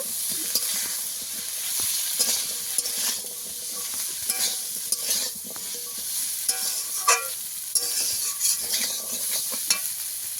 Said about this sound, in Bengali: লঙ্কার গুঁড়ো দিয়ে দেব, সব কিছু একসঙ্গে কষিয়ে নেব